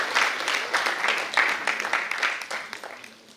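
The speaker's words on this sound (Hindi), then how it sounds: "एक बार जोरदार तालियां हो जाएं आशी मालवी जी के लिए" Audience applause at a theatre festival and honors ceremony, a dense burst of clapping that swells quickly, holds steady, then thins and fades toward the end.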